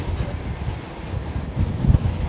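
A strong gale gusts across an outdoor Metrolink tram stop in Manchester, a steady roaring rush of wind buffeting the microphone with low rumbling thumps, heaviest near the end, and no voices.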